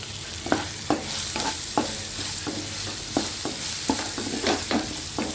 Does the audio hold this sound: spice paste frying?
yes